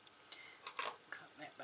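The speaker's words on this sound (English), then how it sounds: "Cut that bit off." Scissors snip through fabric while sewing a cloth huswif, a few short, close crisp cuts at uneven intervals.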